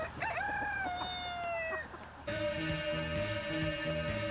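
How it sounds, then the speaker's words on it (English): Backyard chickens are close by: a rooster crows loudly with a long drawn-out call, then hens cluck in a steady, busy chatter. "So I suppose yes, the chickens."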